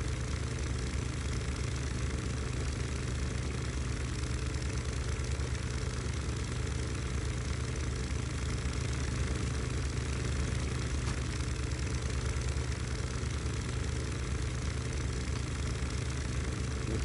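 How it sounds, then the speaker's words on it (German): A steady, droning boat engine in the video game The Sinking City hums evenly throughout, a constant low rumble with no change in pitch or speed and no voices. "Wobei das Boot jetzt auch nicht mehr so laut ist."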